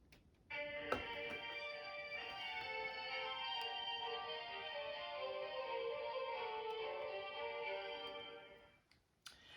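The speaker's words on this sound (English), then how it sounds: "These are violas, slightly bigger than a violin." A section of violas, stringed instruments a bit larger than violins, sustains a steady bowed chord for several seconds at a moderate level, then fades out with a few soft clicks.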